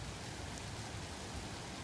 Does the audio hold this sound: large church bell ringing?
no